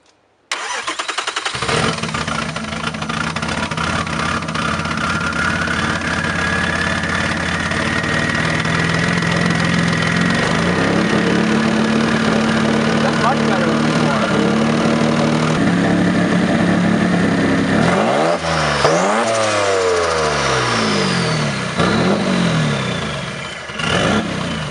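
A Mazda MX6 V6 turbo with an open downpipe runs loud and steady for over twenty seconds, a raw rasping idle that rises in pitch with a couple of revs near the end.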